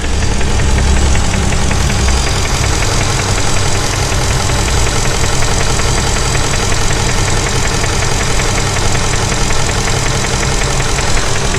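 A 2000 Mercedes E430 V8 runs loud and close after an intake gasket and fuel injector job, a steady idle with a faint rhythmic knock in the engine's churn, no voices over it.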